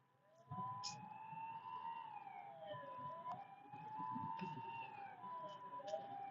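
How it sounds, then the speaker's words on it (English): A wailing ambulance siren rises and falls repeatedly at moderate distance over low road rumble on a street walk in Osaka, sustained throughout. "but we have a ambulance coming."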